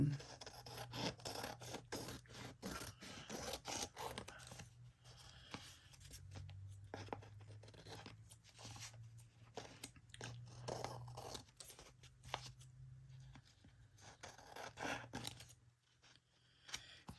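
Paper pocket stuffers for a junk journal are trimmed by hand, giving close, quiet, repeated rasping cuts and scratchy rubbing in irregular bursts over a low hum, with no voices.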